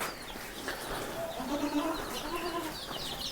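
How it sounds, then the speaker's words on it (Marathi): Chickens and small chicks kept in a farm setup alongside goats, a soft continuous flurry of peeping and clucking at moderate distance with faint farmyard background and no speech. "कोंबडीचे छोटे छोटे पिल्ले, यांचाही सेटअप त्याने इथं उभारलेला आहे"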